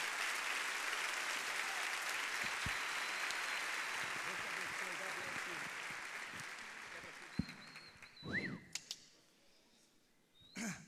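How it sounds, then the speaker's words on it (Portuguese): A church congregation applauds warmly to welcome a visiting preacher at a Brazilian worship service, sustained broadband clapping filling the room for about eight seconds before fading, followed by a few brief spoken words. "eu queria que você recebesse ele calorosamente com uma salva de palmas"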